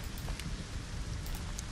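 Rain in LEGO Fortnite, a steady soft hiss of falling water with faint scattered drops, continuous and low in level with no voices over it.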